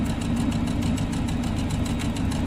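A sewing machine stitching fabric for a pillow wall hanging, a steady, fast, close mechanical hum with rapid even needle pulses and no talk.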